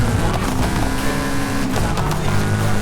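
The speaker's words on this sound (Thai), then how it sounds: "เสียงรอบเครื่องหวานมาก" A Toyota GR86 engine in the Forza Horizon 5 racing game holds a steady high rev, a loud continuous droning roar throughout with no break, no talking.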